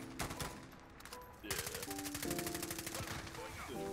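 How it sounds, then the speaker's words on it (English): Gunfire in the video game Warzone: fairly quiet rapid automatic bursts and rattling shots that grow denser partway through, mixed with game sound effects. "You can't even see where the bullets are coming from, Jay."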